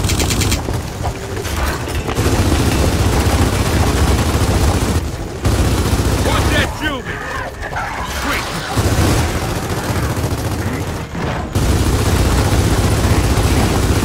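Gunfire during a boss fight in Gears of War 4 rattles in sustained bursts with booming hits. Voices shout and talk over the shooting, and the firing drops out briefly a few times.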